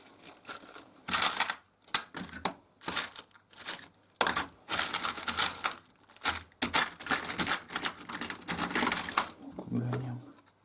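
Metal wrenches clattering and jangling in irregular bursts while someone rummages through tools for a chainsaw repair, close and sharp, separated by short quiet gaps, with a low brief thud near the end.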